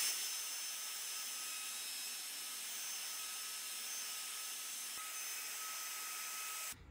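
A router cuts wood along a straight line guided by its top bearing, producing a continuous high-pitched whine with a steady, even tone that stops abruptly at the end.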